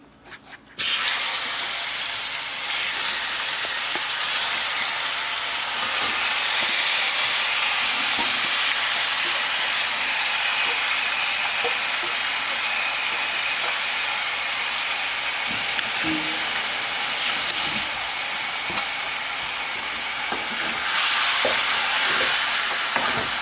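Chicken pieces being turned in browned sugar in a pot for stew chicken, giving a steady, loud sizzling hiss with faint scraping stirs throughout, no voices.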